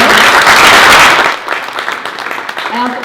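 An audience claps and applauds loudly at the close of an Oxford-style debate on the U.S. patent system, a dense burst that fades into scattered claps under a speaking voice.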